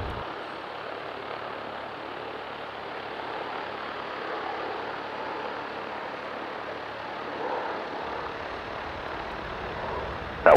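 A general aviation airplane lands on runway 27 right at Gillespie Field in San Diego, its engine a steady, fairly distant broadband drone that holds evenly throughout with no voices.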